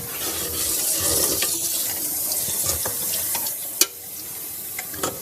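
Water pours steadily from a tap into a sink as a continuous hiss and splash, with a few sharp clinks standing out over the flow.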